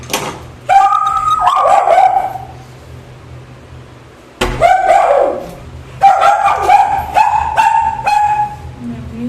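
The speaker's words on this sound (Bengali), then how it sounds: "বাইরে কুকুরটা চিল্লালো কেন একবার দেখি" A dog outside barks and yips in several loud, close bursts, pausing for about two seconds midway before barking again repeatedly.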